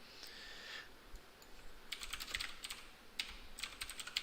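Fingers type on a computer keyboard in quick clusters of soft clicks separated by brief pauses, close but quiet, with no talk over it.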